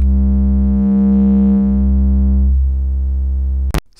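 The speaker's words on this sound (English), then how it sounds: "Triangle output" A steady low triangle-wave tone from a kNoB technology η Carinae VCO synthesizer module, with rich harmonics, drones for several seconds, its pitch wavering slightly, then cuts off with a brief click.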